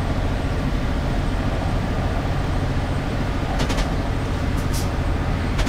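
Cab interior of a Class 66 diesel locomotive in Train Simulator 2017, with a steady, loud engine drone and rolling rumble as it nears 60 mph, plus a few faint rhythmic clicks near the end.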